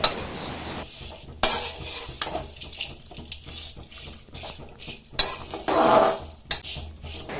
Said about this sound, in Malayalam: ഒരു രണ്ട് മിനിറ്റ് ഒന്ന് ആ നെയ്യിലിട്ട് ഒന്ന് ഇളക്കി കൊടുത്തുകൊണ്ടിരിക്കണം